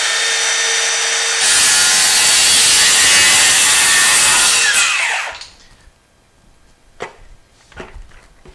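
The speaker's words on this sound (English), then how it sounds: "you take your framing square, you drop it on the line, then you use it as a fence, squeezing it so you can make a perfect 90-degree cut" A saw cuts through wood guided by a framing square held as a fence: a loud, continuous rasping cut lasting several seconds that stops abruptly, followed by a few faint knocks and near silence.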